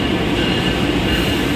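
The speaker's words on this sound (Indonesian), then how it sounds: "ini keretanya datang, adalah kereta api Arjonegoro" Arjonegoro passenger train arriving at platform 4, a loud continuous rumble of wheels on rails close by, dense and unbroken, with no voices.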